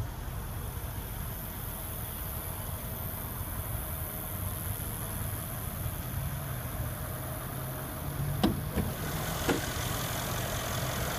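The 5.5-liter bi-turbo V8 of a 2015 Mercedes-Benz CLS 63 AMG S runs at a steady idle, a low, even rumble close by, with a couple of brief clicks near the end.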